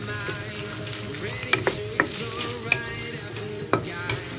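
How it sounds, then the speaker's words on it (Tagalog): Vegetables sauté in a hot pan, tossed with a little flour or cornstarch and sugar, giving a continuous sizzle and crackle broken by several sharp spatula knocks against the pan. "Saka natin i-gisa."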